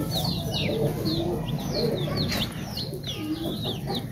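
Desi chicks cheeping continuously in a shrill, busy chorus, with soft low clucking underneath, as a small flock feeds on scattered grain nearby; steady and fairly loud throughout, no talking.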